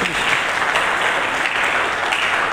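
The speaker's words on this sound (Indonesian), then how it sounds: "Mari kita berikan tepuk tangan yang meriah bagi Yesus." Lively applause rises from a congregation at an Indonesian church service, many hands clapping in an even, unbroken roar that holds steady throughout.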